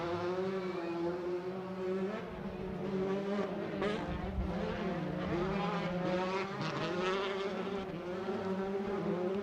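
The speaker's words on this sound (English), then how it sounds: "showing the 3 top cars equal spaced out as they head into the extension section of the" Several race cars head into the extension section of a racetrack, their engines a steady, droning whine that rises and falls in pitch as they pass, heard at a distance and running continuously throughout.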